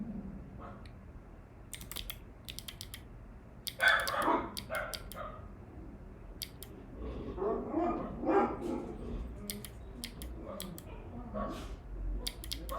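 Several dogs barking indoors in a home office, sharp repeated barks scattered through the clip over keyboard typing and someone talking.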